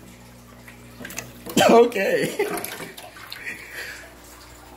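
Water splashes and gurgles as it is poured into a fish tank housing large fish such as a dorado catfish, in a loud burst that tapers to trickles, with a person speaking nearby.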